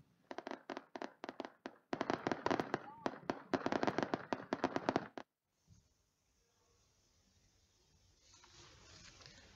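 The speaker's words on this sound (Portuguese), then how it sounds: "os convidados foram brindados de fogos de artifício." Firecrackers and fireworks go off at a Chinese national day celebration in São Tomé and Príncipe, a loud rapid crackling burst of many sharp pops for about five seconds, then quiet fading background noise.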